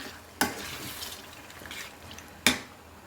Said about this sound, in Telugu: మొత్తం వేసేసుకున్నాను ఒకసారి మిక్స్ చేసేద్దాం